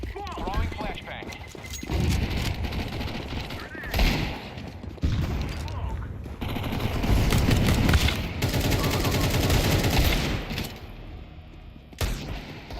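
Bursts of rapid gunfire and shots ring out in a tactical shooter video game, with flashbangs in play, repeated volleys close and loud with a player talking over them.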